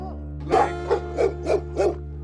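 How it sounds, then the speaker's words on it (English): Guard dogs at Angola prison give about five short, regular barks that stand out clearly over a steady low electrical hum. "Canines in this hand-picked pack are trained to patrol, guard, and help keep order."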